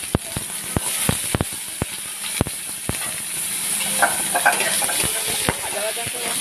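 Whole cumin seeds and bay leaves sizzling in hot oil, a steady crackling hiss broken by sharp ticks and pops, with a voice briefly talking over it.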